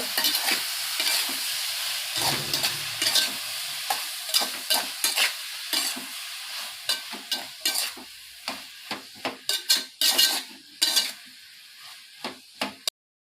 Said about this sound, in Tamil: வெங்காயம் வெந்தோடனே தக்காளி போடுங்க